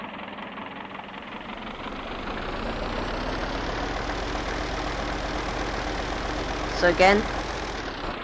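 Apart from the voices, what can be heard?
Ferguson tractor engine running while lowering a cultivator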